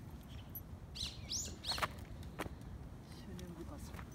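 Birds call in an outdoor park square, with pigeons and another species giving a few short, sharp chirps around the middle over quiet background rumble and faint footsteps.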